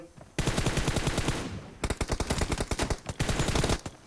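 Rapid bursts of automatic gunfire from a shooting video game played in a one-on-one duel, loud rattling volleys broken by short pauses, with no voices over them.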